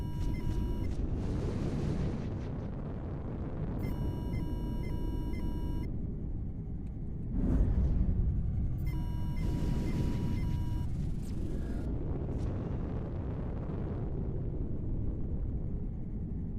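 Artillery barrage in the video game SB2 (Steel Battalion), a sustained low rumble with repeated heavy booms, a sharp loud blast near the middle and fainter electronic beeping tones above.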